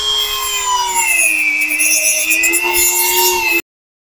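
PVC pieces cut along templates glued onto a PVC section for a homemade fishing tackle box, a steady, continuous sawing and rasping sound heard alone at close range, stopping abruptly near the end.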